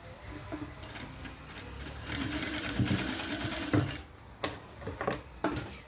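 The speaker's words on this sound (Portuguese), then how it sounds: "e depois rebate a costura" A sewing machine topstitches a seam in quick rattling bursts, stopping and starting several times, close and moderately loud with no talk.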